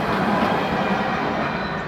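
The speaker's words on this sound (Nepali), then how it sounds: "यो छोटोवाला मेट्रो" A short metro train rolls past near a marina beach in Dubai, giving a steady, loud rumble with a faint rail hiss throughout and no voices.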